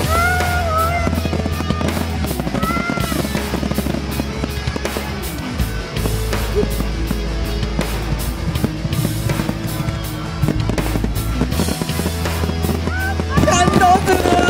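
Fireworks burst at a Japanese summer fireworks festival in Tochigi, a steady run of loud pops and crackles layered over a dense, continuous crowd roar, with voices talking throughout.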